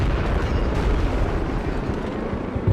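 Massive explosion in the video game Battlefield Iraq during an oil field battle, a sustained loud, dense rumbling boom that fills the whole stretch with continuous low roaring debris noise.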